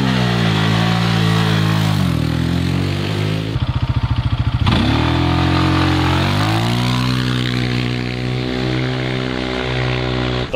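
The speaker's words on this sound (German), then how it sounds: "wir können ja mal dann beide auf dem Quad fahren und so hintereinander an der Kamera vorbei" Two quads, an Xtreme Supermoto 480 and an Aeon Cobra 420, drive past one behind the other at a constant 40 to 50 km/h, their loud engine drone swelling and shifting pitch as they pass close by.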